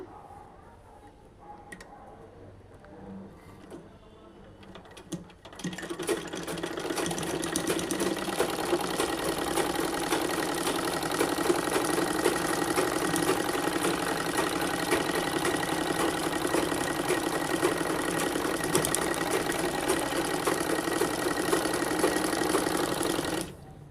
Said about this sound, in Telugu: నెక్స్ట్ ఇంకొక స్టిచ్ వేస్తా